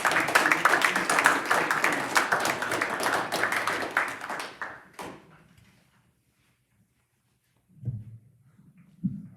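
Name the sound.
applause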